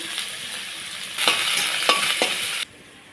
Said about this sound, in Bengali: ফোড়নের জন্য দিচ্ছি তেজপাতা শুকনো লঙ্কা দিয়ে দিচ্ছি পাঁচফোড়ন দিয়ে দিচ্ছি